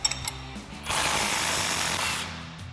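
An 18 mm socket and wrench working the two tie rod end bolts on a 2014-2021 RAM 2500, starting with a few sharp clicks and then a steady loud ratcheting buzz that runs about a second and a half before stopping.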